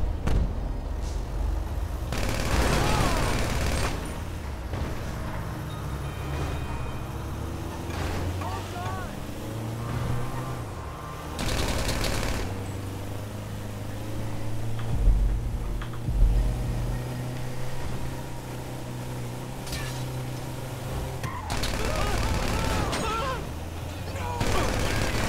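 Gunfire in the multiplayer game GTA V Online, bursts of shots ringing out over a steady vehicle engine drone while people talk intermittently.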